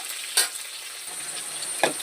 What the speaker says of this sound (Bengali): আলু কাঁচকলাটা আমার সুন্দর ভাজা হয়ে গেছে